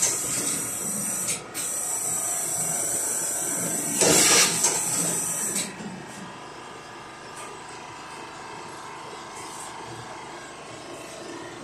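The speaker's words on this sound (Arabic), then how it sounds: "أما البخار ما يحرق الشماغ" A steamer hisses steadily on a shemagh headscarf, a loud continuous spray that surges briefly midway and then eases to a softer, lingering hiss.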